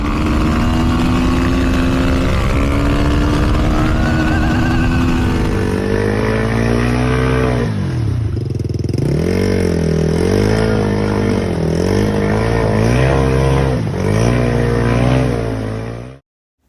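A Yamaha WR250R motorcycle ridden hard, its engine loud and close throughout, revs climbing and dropping sharply through repeated shifts, with wind rush in the background and no talk.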